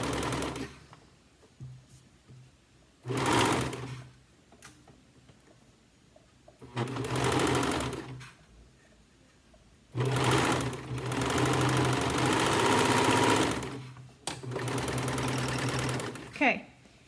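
A serger sewing machine stitches a neckband in several loud whirring bursts of a few seconds each, separated by quieter pauses.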